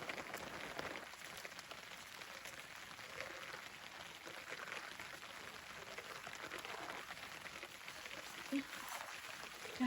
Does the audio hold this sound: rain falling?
yes